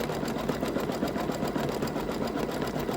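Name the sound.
sewing machine stitching a seam on a towel topper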